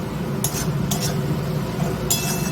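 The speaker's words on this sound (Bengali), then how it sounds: "এটাকে এখন ভালো করে কষাতে হবে" Dal tadka being stirred and sautéed in a pan: a low, steady sizzle with three brief metallic scrapes and clinks of the spoon against the pan, close by, with no talking.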